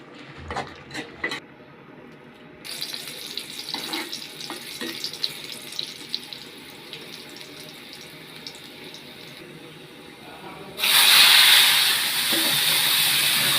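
Kochur loti (taro stolons) with coriander leaves are tipped into hot oil after some clinking and rustling, bursting into a sudden loud, steady sizzle that holds to the end.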